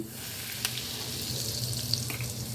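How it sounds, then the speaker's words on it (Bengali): A tempering of dried red chillies and asafoetida crackling in hot oil for a pumpkin chhokka: a soft, steady hiss with a few faint pops, fairly quiet and close. "এখন আমি ফোড়নটাকে একটু দু তিন সেকেন্ডের জন্য একটু ভেজে নেব"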